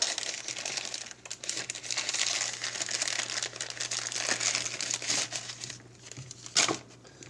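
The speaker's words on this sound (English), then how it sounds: "It is sealed good, so we're just going to tear it open." A sealed, child-proof plastic bag holding a Vantrue Nexus 5S dash cam is torn open by hand, giving several seconds of close, continuous crinkling and ripping plastic with a few sharper tugs near the end.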